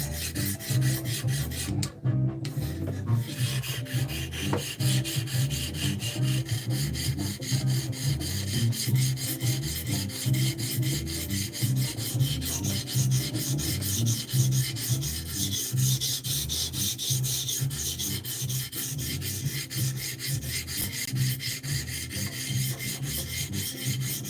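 Knife blade drawn repeatedly across a sharpening system at a fixed angle, producing a continuous run of close, rhythmic rasping strokes at steady volume for over twenty seconds, with no talking.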